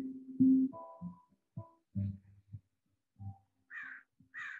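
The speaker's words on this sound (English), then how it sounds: "Got lots of birds tonight." Birds call outdoors in the evening, with low, harsh crow-like caws near the start and a pair of higher, brighter calls near the end, all spaced out with quiet gaps.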